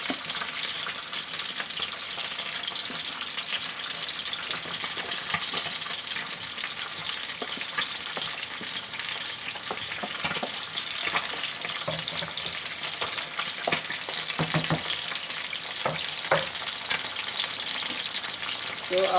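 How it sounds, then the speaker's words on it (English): Meat tipped all at once into a hot pot of okra stew base sizzles and fries steadily, a close, continuous crackle with occasional stirring scrapes and small pops. "I'm going to add the meat all at once now."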